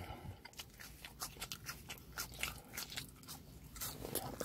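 Someone eating Five Guys fries at close range, soft repeated crunching and chewing with faint mouth sounds in a quiet room.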